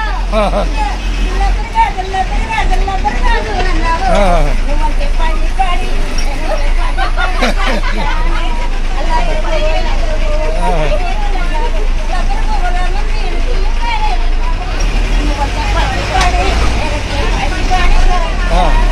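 Inside a moving APSRTC public bus near Tenali, with a loud constant low engine and road rumble, rattles and jolts, while people talk and chatter over the noise throughout.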